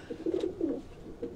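Close, soft, throaty cooing from Sialkot-bred pigeons, a few low rolling coos in quick succession with no talk.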